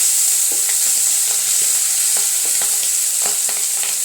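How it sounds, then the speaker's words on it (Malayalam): Marinated food coated with pepper powder and salt fries in a pan, giving a loud, continuous sizzle broken by light clicks and scrapes of stirring. "അതിപ്പോൾ വറുത്തുകൊണ്ടിരിക്കുന്നത്."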